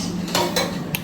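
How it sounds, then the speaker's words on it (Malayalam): A plate is lifted from the kitchen in a house in Trivandrum, giving a few sharp, close ceramic and metal clinks in quick succession. "നമുക്കത് പ്ലേറ്റ് എടുക്കാം"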